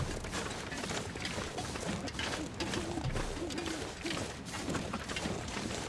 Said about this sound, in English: A lot of owls.